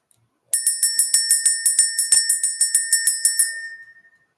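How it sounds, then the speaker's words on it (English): A small bell rings in a rapid series of about fifteen bright, even strikes, each chime clear and close, then fading out into silence. "Let's go ahead and ring the bell."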